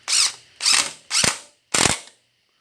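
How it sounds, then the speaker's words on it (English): A drill drives a screw into pallet wood, giving four loud, close bursts of whirring and grinding, each about half a second long, with short pauses between them. "I'm going to get at least one screw in"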